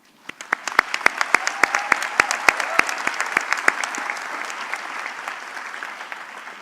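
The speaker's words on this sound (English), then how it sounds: "they deserve a round of applause" A college convocation audience gives sustained applause for graduates' families and friends, with many hands clapping and sharp individual claps standing out from the dense, fairly close crowd sound.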